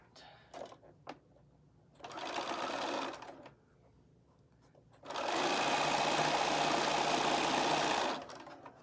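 A sewing machine stitches a half-square-triangle quilt block in two bursts, first a short run and then a longer steady whir, near and loud, with brief fabric handling and quiet gaps between.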